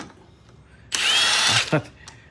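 Impact gun used on the front wheel of a 2016 Chevrolet SS during suspension work, one loud close burst of about three quarters of a second in a garage, followed by a brief clatter.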